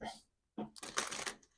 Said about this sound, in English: as I was shuffling here